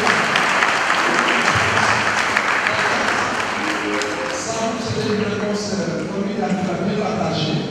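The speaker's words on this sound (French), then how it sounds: "Applaudissements." Sustained loud applause fills a church congregation at a first communion celebration in Thiès, steady clapping throughout with crowd murmur beneath it.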